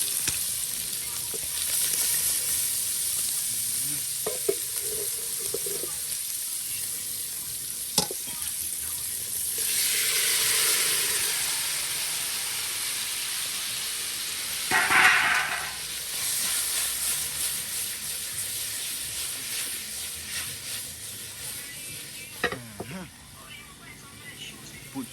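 Ackee sizzles and hisses steadily as it fries in a pan for a Jamaican ackee and saltfish dish, with a constant loud frying bed and occasional stirring clatters, and a voice speaking over it.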